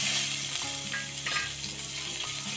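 Urad dal fries in hot oil for onion chutney, a dense continuous sizzle and crackle with faint stirring scrapes, close and steady, with no talking.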